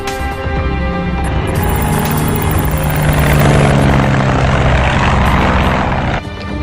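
Loud, steady drone of a propeller cargo plane's engines in flight, a continuous close roar with a whining tonal hum that holds throughout with no voices.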